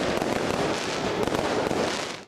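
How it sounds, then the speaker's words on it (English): Fireworks bursting over a night-time Christmas tree lighting ceremony in Bethlehem, a dense continuous crackle and rumble of explosions that cuts off abruptly. "fireworks lit up the night sky"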